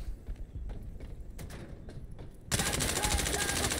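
Rapid automatic gunfire in the video game Insurgency: Sandstorm, played on Xbox Series X, starting as scattered shots and then breaking into a loud, dense, sustained burst at close range.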